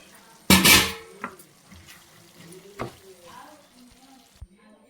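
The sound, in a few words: chopped tomatoes added to ridge gourd curry in pan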